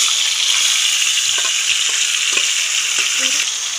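Chicken pieces dropped into hot ghee with whole spices for a korma, sizzling loudly and continuously with a few stirring clanks and scrapes near the pan.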